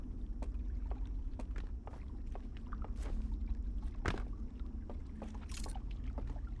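Boat moving on water in the game Outer Wilds, a steady low rumble with faint splashes and brief wind gusts, continuous and fairly close, with no talk.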